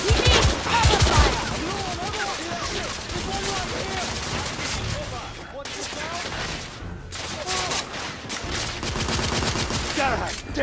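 Dense, continuous gunfire fills a lobby firefight in The Order: 1886, with rapid overlapping shots and machine-gun bursts close and loud throughout, while voices shout in the background.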